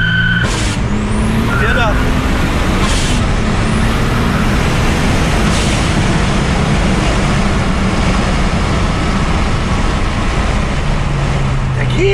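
A VW Golf 2 with a VR6 turbo engine and GT30 turbo, making 420 hp, roars under hard acceleration on a test drive with loud, sustained road and engine noise, while a voice speaks briefly.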